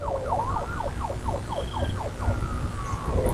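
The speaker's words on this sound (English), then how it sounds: "You hear the sirens?" A siren yelps in fast rising and falling sweeps, steady and moderately loud over low traffic rumble.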